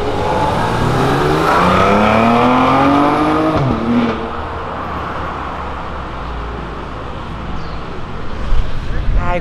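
A Ford GT sports car's engine climbs in a loud, rising rev that swells for a few seconds, then drops away, leaving road and street noise with people talking over it.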